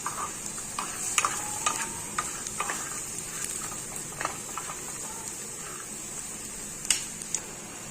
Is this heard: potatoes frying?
yes